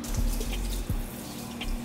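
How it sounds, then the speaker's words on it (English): Warm tap water runs steadily over hair during a hair wash, with a continuous close splashing flow and a few soft drips and knocks. "So I'm going to just warm up her head with a little bit of warm water."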